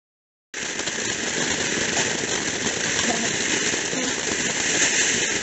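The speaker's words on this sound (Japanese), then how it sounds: "涼しい花火だね" Fireworks at Hachimantai, Japan, give off a dense, steady crackling hiss that starts abruptly and continues unbroken, fairly close and loud.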